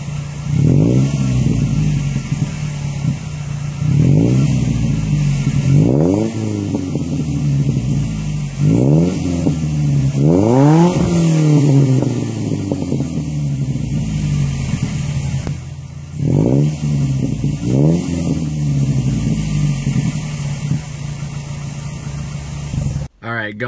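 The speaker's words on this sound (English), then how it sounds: "So MagnaFlow Street Series exhaust system, it is a little less loud than the MBRP" A Ford Ranger 2.3L four-cylinder engine revs repeatedly through a throaty MagnaFlow Street Series aftermarket exhaust, rising and falling in short bursts over a rumbling idle, close to the tailpipe.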